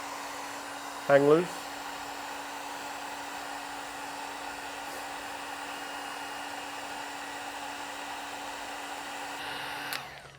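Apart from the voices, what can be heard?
hot air blowing to heat Model 3 Highland emblem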